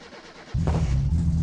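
A car engine in My Summer Car cranks and catches abruptly, then settles into a steady, loud, low idle that continues to the end.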